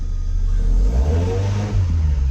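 A Toyota MR2 engine revs loudly and steadily, close by, as the car is put in gear and starts pulling away, with a deep continuous drone and a brief dip in the middle before the revs rise again.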